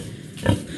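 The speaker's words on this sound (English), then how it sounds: "here we have Trigger, our daddy pig." A breeding boar on a farm, housed in a straw-bedded shed, gives a single short low grunt midway through, fairly close, with quiet barn ambience around it.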